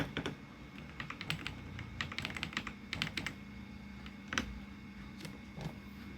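Keys clatter on a computer keyboard in quick irregular bursts and then sparse single taps, close and fairly quiet, with no voice over them.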